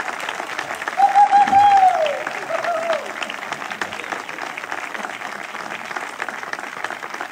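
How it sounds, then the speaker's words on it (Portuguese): An audience claps together in a steady wash of applause that swells briefly and then continues at a moderate, even level. "Obrigada pelos vossos aplausos."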